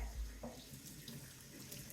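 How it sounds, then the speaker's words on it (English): Running tap water rinses product out of a human hair wig in a sink, a steady, close, soft splashing stream without speech. "So I'm gonna take the warm water, making sure it's a little bit on the colder side,"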